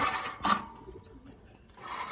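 A soft coo from a Jiragola pigeon sounds briefly in a quiet space, with a couple of faint clicks and a light rustle around it.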